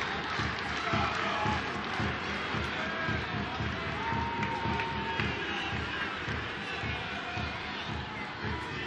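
Travelling IFK Norrköping supporters roar and chant in a steady, loud stadium din at a Swedish football match, with a commentator talking over the crowd.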